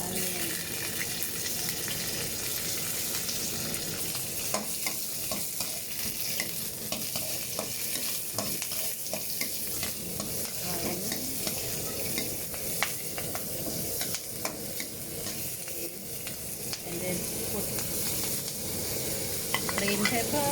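Onion stir-frying in hot cooking oil for a Thai sweet and sour chicken stir fry, a loud continuous sizzle with scraping stirring strokes throughout, close and steady.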